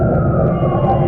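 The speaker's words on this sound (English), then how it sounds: "Every time you hear the sound of a Northwell ambulance" A Northwell ambulance siren wails steadily, loud and close, in one continuous tone with no talking.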